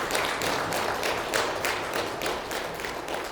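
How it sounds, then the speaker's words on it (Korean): A church congregation claps in a steady, dense patter of applause, moderately loud and sustained without voices. "우리 두 분께 감사와 격려의 박수를 부탁드립니다."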